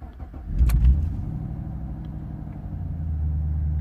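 A Vauxhall VXR8 with an engine warning light on cranks and fires up, then settles into a deep, steady idle rumble close by, with no talk.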